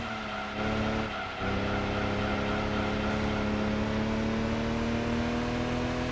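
A race car in the Gran Turismo 2 video game holds a loud, steady engine drone with a tire squeal running along under it, with a brief dip early on and then a continuous, rising pitch.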